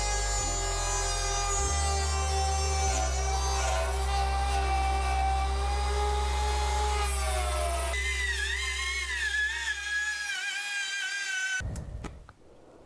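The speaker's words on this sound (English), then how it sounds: "I'm just gonna push it in here and go all the way to the other side and stop." A wood router cuts a groove into a board for a rustic trunk, its loud, steady high whine holding throughout as the pitch shifts under load before the motor cuts off near the end.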